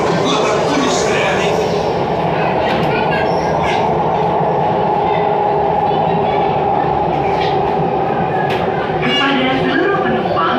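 Jakarta MRT metro train rolling between stations toward Lebak Bulus, a loud steady rumble of wheels and carriage noise with faint squeals, while talk or announcements sit under the ride.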